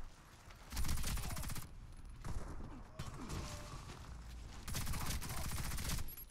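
Bursts of automatic gunfire in the Warface shooter game, several rapid volleys separated by short gaps, fairly quiet overall with mechanical clatter between the shots.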